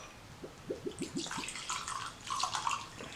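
Patron Silver tequila is poured into a glass, a short run of quick glugs followed by a higher trickling splash as the liquid settles, close and fairly quiet.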